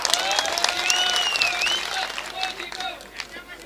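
Crowd applause and cheering at a political rally in Amravati, a dense wash of clapping with whistles and shouts sustained throughout, loud and close, thinning slightly toward the end.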